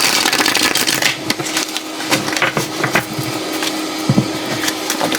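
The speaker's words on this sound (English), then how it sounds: "I'm gonna do one more good shuffle." A deck of cards being shuffled up close, a dense run of crisp riffling clicks and flutters with brief pauses between bursts, no talking.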